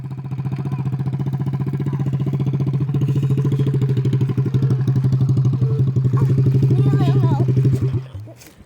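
A 50cc dirt bike ridden by a five-year-old buzzes loudly up close with a steady rapid putter that rises slightly, then cuts off sharply near the end as the throttle drops; voices call out over the engine.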